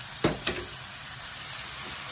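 Shrimp drop into a pan of hot garlic butter with Sprite, giving two quick soft thuds. A steady close sizzle of frying follows. No one speaks over it.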